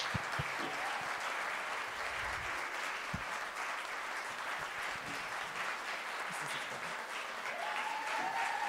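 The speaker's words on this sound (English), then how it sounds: "give them a massive round of applause" An audience at a women's empowerment awards event in North West gives the sponsors a sustained round of applause, a dense, even wash of clapping from a large crowd throughout.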